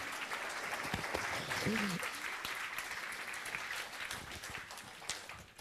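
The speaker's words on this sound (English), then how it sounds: "Give him a round of applause." An audience at a business seminar applauds as a speaker is welcomed to the stage, with sustained, even clapping from a crowd under a voice speaking over it.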